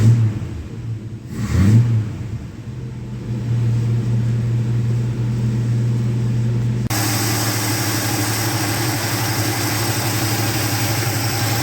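A 1976 Dodge D100 engine warming up, starting with uneven revs and then settling into a loud, steady idle drone that keeps running alone.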